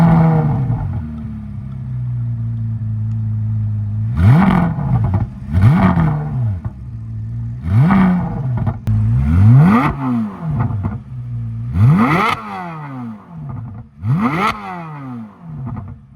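Corvette Z06 V8 engine revving hard in a series of loud blips, rising and falling roughly every second or two over a steady deep idle, close and dominant with no talk.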